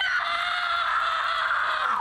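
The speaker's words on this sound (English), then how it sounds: "the absolutely gut-wrenching scream she does when her spear gets broken" A woman in a TV series lets out a long, piercing scream as her spear is snapped, one sustained high wail lasting about two seconds, loud and unbroken, fading at the end.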